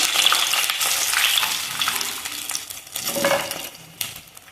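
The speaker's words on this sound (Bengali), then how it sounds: "এই তিনটা আমি আগে তুলে নেব নিয়ে পরেরগুলো ভালোভাবে একটু ভেজে নেবো" Chicken leg lollipops, or tangri lollipops, fry in hot oil with a steady, fairly loud crackling sizzle, joined by a few light clinks of a utensil against the pan.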